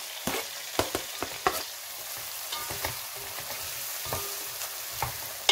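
Onion frying in a pan sizzles softly and steadily, broken by several sharp clicks and taps of a utensil against the pan, heard close up with no talking.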